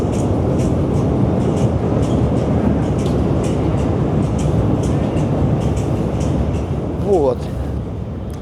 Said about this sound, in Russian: Вот сейчас поезд идет сверху,